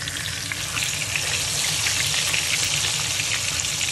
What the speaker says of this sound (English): So fish has been frying for a while